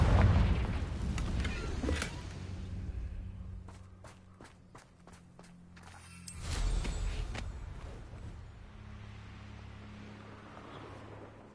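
A Confringo spell in Hogwarts Legacy lets out a deep booming blast, with a heavy rumble at the start, a series of quick sharp clicks, then a second muffled explosion swelling and fading.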